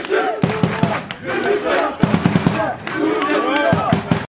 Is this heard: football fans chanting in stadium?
yes